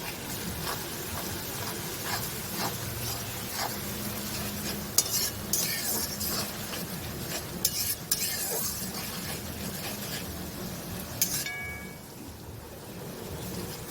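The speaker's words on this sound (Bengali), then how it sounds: "এবার আমি বাটা পেঁয়াজটা এবার দেব। এটাকেও কিছুক্ষণ নাড়তে হবে।" A spoon scrapes and stirs onion paste frying in a pan, with steady sizzling underneath and occasional clinks of metal against the pan, no voices.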